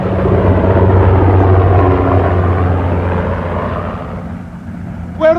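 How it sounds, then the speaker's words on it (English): An RAF helicopter with its rotors already turning lifts off, a loud, steady engine and rotor drone that fades slightly toward the end. "An RAF helicopter, its rotors already turning, was waiting for us."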